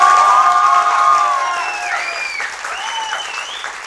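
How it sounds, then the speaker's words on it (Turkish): Live TV studio audience in Turkey breaking into applause, loud clapping with cheers that gradually fades and thins out over a few seconds. "Lütfen bir alkış rica ediyorum."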